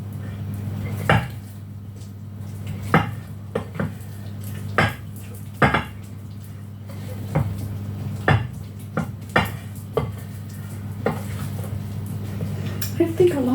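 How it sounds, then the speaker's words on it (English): Tex-Mex chili stirred in a pot, sharp spoon clinks against metal at irregular intervals over a low steady hum, with occasional speech nearby. "Stir that in."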